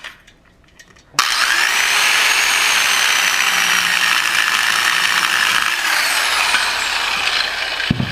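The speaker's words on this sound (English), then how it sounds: "1/2-inch steel with the DualSaw" A DualSaw CS650 cutting half-inch steel bursts in after a quiet second and holds a loud, harsh, continuous grinding whine up close until the end.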